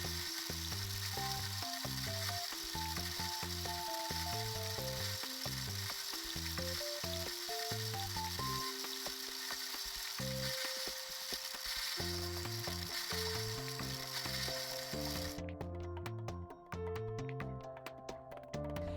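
A 3D printer printing, its stepper motors whining in shifting pitched tones that step up and down in quick sequences over a constant fan hiss.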